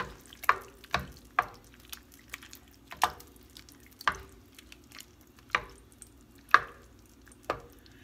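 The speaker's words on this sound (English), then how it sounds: "I just add the meat to it and mix it together." Spoon knocking and scraping in a pot as drained cooked meat is stirred into homemade pasta sauce, a slow series of distinct, evenly spaced clanks over a faint background hum.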